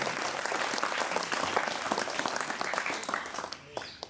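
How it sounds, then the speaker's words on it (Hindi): Audience at a school poetry gathering claps loudly to welcome a guest, a dense burst of applause that runs steadily before tapering off near the end. "एक बार उनके स्वागत और सम्मान के लिए जोरदार तालियां बजाएं।"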